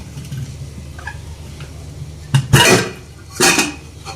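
Metal clanks and scrapes as a heavy pressure cooker lid is worked loose over cooked mutton, two louder bursts of clatter near the end over a low background hum.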